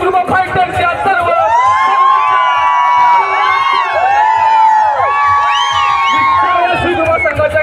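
A crowd at the 2024 NPL-4 prize distribution ceremony cheers loudly, with shrill whistles and whoops rising over dense voices and shouting throughout.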